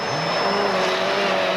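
A WRC rally car tears past a spectator stage at Rally Finland 2000, its engine note loud and sustained with a rising whine across the whole moment and no voices.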